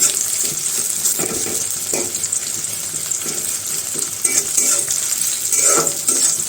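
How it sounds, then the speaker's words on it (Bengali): Chopped onions frying lightly in a pan give a steady close sizzle, broken by scraping taps and clinks as they are stirred, with no talking. "পেঁয়াজটা একটু হালকা করে ভেজে নেব"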